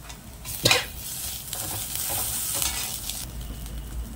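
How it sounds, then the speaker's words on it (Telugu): Cabbage, carrot and capsicum stir-fried in a hot pan for street-style egg noodles, a steady sizzle with a loud clatter of the spatula early on and more scraping strokes after, close and with no talking. "అందులో ఇంకా మనకి తీసుకున్న వెజిటేబుల్స్, క్యాబేజ్, క్యారెట్, క్యాప్సికమ్ ఉన్నాయి కదా, అవి వేసుకోవాలి"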